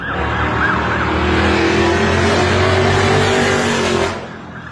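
A loud, close modified Ford Mustang GT 5.0 engine roars and revs, its pitch climbing steadily before cutting off abruptly near the end.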